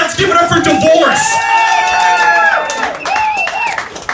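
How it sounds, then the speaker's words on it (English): Thin, scattered applause with a whoop from a small crowd at a stand-up comedy show in a Newark, Delaware brewery, with voices shouting and talking over it. "Worst applause break I've ever gotten."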